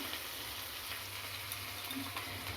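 Fried rice stirred in a pan with ghee, a soft steady sizzle close by with faint scraping movement, quiet and continuous with no voices.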